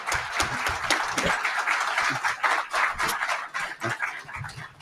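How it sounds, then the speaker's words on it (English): Audience at a debate clapping in a dense, sustained round of applause that stays loud and steady for several seconds, with scattered louder claps near the end. "Give him a massive round of applause."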